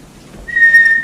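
A dog training whistle is blown once as a sit cue, a single clear, steady high-pitched tone lasting about half a second, sharp and close.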